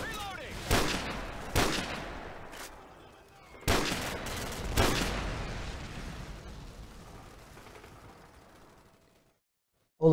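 Gunfire in Call of Duty: Modern Warfare, with several sharp blasts spaced a second or two apart that each ring off into a long fading rumble, moderately loud, with no voices.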